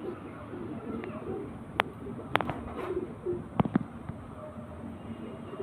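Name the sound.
black champion racing pigeon cooing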